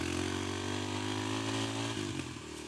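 Kawasaki KLX300 dirt bike, ridden without its secondary plate, bogging down in deep sand, its engine holding a steady, buzzing drone that dips and falters briefly toward the end.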